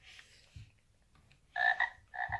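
Two loud, close frog croaks, each a buzzy, resonant call lasting about half a second, separated by a short quiet gap, with a fainter croak earlier.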